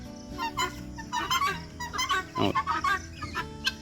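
Several chickens cluck close by in short, overlapping bursts.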